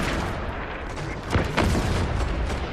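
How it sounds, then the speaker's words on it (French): Pumpkin rocket shells explode in the Fortnite video game, a dense burst of booming blasts and crackling gunfire that peaks partway through the short stretch. "Les obus. Fameux obus citrouilles."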